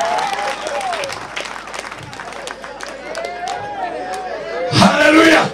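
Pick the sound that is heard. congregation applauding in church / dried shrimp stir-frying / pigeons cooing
congregation applauding in church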